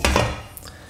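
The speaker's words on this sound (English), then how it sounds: "Now what you want to do is pop the lid on" A lid goes onto a pan of shakshuka with a sharp metallic clank, then a brief lighter rattle as it settles, close and clear.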